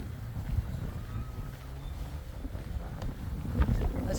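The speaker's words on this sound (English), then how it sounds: "this golf course must get caught with the wind" Wind buffets a microphone on a golf course at Prestatyn, a steady low rumble with gusty swells and faint distant background noise, no clear voices.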